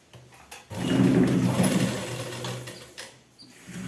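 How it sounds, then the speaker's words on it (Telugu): Sewing machine stitching a blouse, a steady close whirring run of about two and a half seconds that rises, holds and trails off, with faint clicks of handling on either side and no talk. "నాకు మిషన్ కుట్టడం అంటే చాలా ఇష్టం టైలరింగ్ అంటే చాలా ఇష్టం నాకు"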